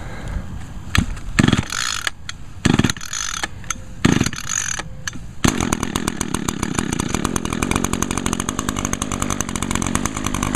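A gas lawn trimmer with a recoil starter is pulled several times, giving short rasping cranks, then catches and runs as a loud, buzzing two-stroke engine idling steadily close by.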